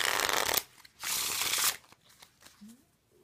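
Cerulean Pearl playing cards with an embossed linen finish are riffle-shuffled up close in two quick, crisp bursts. Softer card handling and a faint voice follow.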